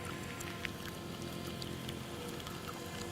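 Ambient synthesizer tape loop recorded on a Tascam 414 portastudio, a dense, steady wash of hissy, rain-like texture with faint high flickers throughout, no voices.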